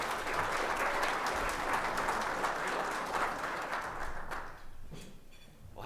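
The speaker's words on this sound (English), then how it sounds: "So let's give a round of applause as he comes up." An audience at a chamber breakfast event applauds, steady crowded clapping that holds strong and then thins out and fades toward the end.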